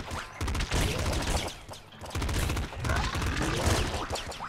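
Rapid bursts of pop rifle gunfire in the game Nuclear Throne, dense and loud, firing in quick successive volleys with short pauses between them.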